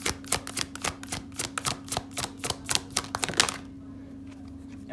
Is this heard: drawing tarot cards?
yes